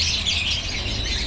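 Many birds in a home aviary chirp together in a dense, continuous high chatter, close and fairly loud, with no one talking.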